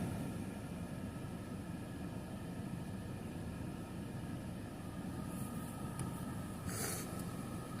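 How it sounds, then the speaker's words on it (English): An airliner passes overhead on approach into Tucson near Davis-Monthan AFB, heard as a distant, steady broadband engine roar throughout with a few faint higher noises near the end. "It's like another airliner going into Tucson."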